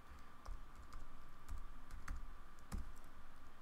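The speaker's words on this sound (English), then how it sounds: "I'm just going to go ahead and put my iTunes password in here" Someone types an iTunes password on a computer keyboard, producing a quiet, close run of irregular key clicks with a few firmer taps, over a faint steady hum and with no talking.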